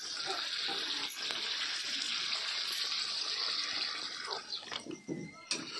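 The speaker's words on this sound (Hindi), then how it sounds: "अब इसमें पानी डाल देते हैं" Water gushing steadily into a pan of fried masala potatoes for a fish curry, a loud continuous pour that sputters and breaks up near the end.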